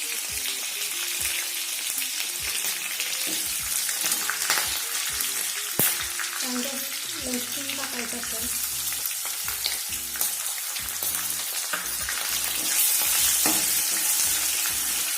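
Phodni tempering of green and red chillies for Maharashtrian varan sizzles and crackles in a hot pan while a ladle stirs and scrapes, with continuous frying hiss and scattered pops, close and fairly loud.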